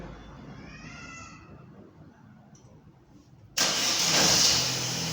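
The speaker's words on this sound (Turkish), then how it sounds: "Aracımız çalıştı." A 2010 Opel Insignia's engine is started by remote start: a quiet stretch with faint background noise, then the engine suddenly catches and settles into a loud, close, steady idle.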